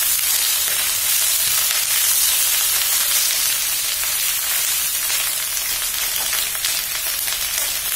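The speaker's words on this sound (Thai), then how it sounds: "ให้มันลักษณะเหมือนกับทอดฝั่งนึงก่อนนะให้มันหอม" Chinese cabbage frying in a pan over medium heat, a steady broad sizzle with crackling spatter that holds level for the whole stretch, with no voices over it.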